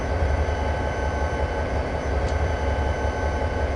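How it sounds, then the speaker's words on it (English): A train being slowed to about 15 mph in Train Simulator on the Cajon Pass route gives a steady, loud low rumble with a sustained wheel-and-engine drone, heard alone. "let's go to our cockpit camera again as we slow our train down"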